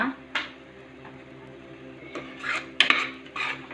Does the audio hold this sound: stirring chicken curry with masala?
yes